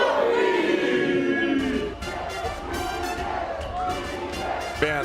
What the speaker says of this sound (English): Look at all the fans out here. You got BTK cheering